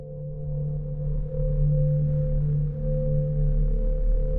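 An Omnisphere synth patch forms a grainy sound bed with a long, diffuse reverb tail, a sustained low tonal drone with steady harmonics swelling slightly and holding evenly throughout.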